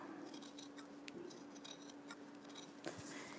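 Scissors snip through wool sweater fabric close to a zigzag stitch around a mitten's thumb seam, making quiet, close crisp cuts in a loose series over a faint steady hum.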